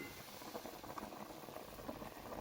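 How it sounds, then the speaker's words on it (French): Vegetables simmering for couscous in a closed saucepan, a faint, continuous soft bubbling and pattering boil with no talk. "Je vais refermer ma casserole et laisser les légumes cuire."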